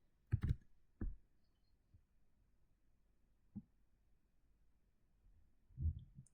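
A few sparse keyboard clicks and key presses sound close and quiet as a copy shortcut is entered on a computer, separated by long silent gaps, with a slightly heavier thump near the end.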